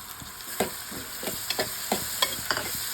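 Tomatoes sauté with mutton liver in a pan: a constant low frying sizzle carries repeated sharp scraping strokes of a spatula stirring at an irregular, fairly quick pace.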